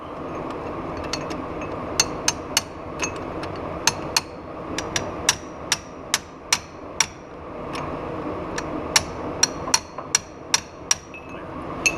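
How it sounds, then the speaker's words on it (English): A hammer taps metal parts of an Eaton E-locker during a Jeep JK Dana 30 install, giving sharp ringing strikes at an irregular pace, some in quick pairs, over a steady low shop hum with no talking. "tapping on that tiny little bit will make that okay"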